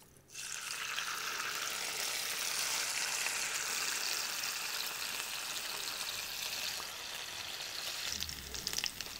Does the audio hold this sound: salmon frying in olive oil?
yes